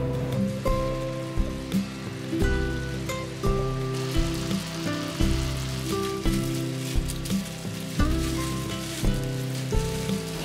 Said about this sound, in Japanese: 表面に焼き色がついたら蓋をして弱火で3分から4分蒸し焼きにします。